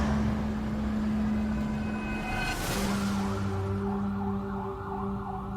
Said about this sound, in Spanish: cuando oigo las sirenas de policía